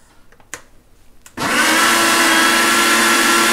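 A kitchen blender mixing egg batter starts up after a few soft clicks and handling sounds, then runs at full power with a loud, steady, close whirring roar.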